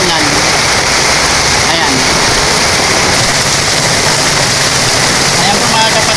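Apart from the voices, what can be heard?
heavy rain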